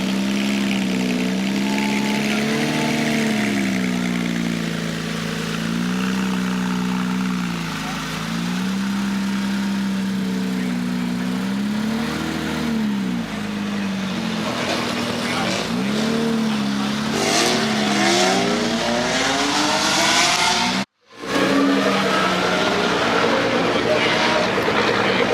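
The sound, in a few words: Porsche GT3 RS car backing up in a parking lot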